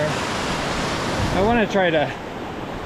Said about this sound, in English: You can really hear the creek here.